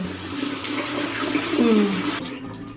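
Water runs steadily from a bathroom tap while a face is washed after using a Foreo Luna 3 cleansing device, a continuous rushing splash heard close and alone, trailing off near the end.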